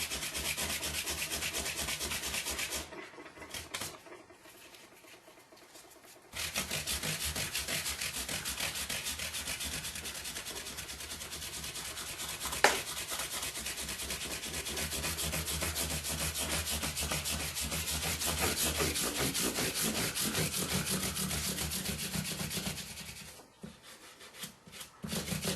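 Micro mesh pads rubbing corrosion off a part of a left-handed Fender Jazz Bass, a close, steady back-and-forth scrubbing with brief pauses and one sharp tap, no speech.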